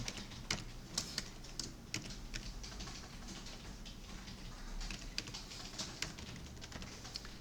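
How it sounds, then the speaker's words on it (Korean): A computer keyboard is used while entering text in CAD software, with steady quiet key taps and a few louder presses standing out, all close and unaccompanied. "이렇게 쓰고 엔터를 누르고 다른 것도 써보세요"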